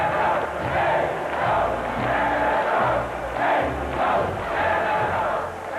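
A large crowd chants the Hockey Canada cheer in an advert, loud rhythmic swells of voices rising and falling in repeated bursts with a low thumping beat underneath.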